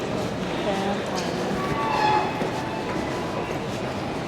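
A train passes near Reading in the UK, a steady rumbling roar with faint high screeching, swelling briefly midway, all close and continuous.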